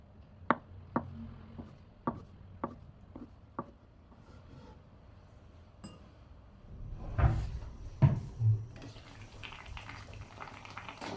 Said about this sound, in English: She's got a block of semi-firm tofu. She's cutting it not all the way through.